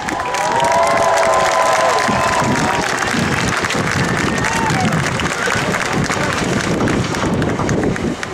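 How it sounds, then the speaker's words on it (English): Outdoor crowd at a military open house applauding and cheering US Army Golden Knights parachute jumpers, loud and dense, with an announcer's voice and other voices mixed in over the clapping. "let's give them a big round of applause"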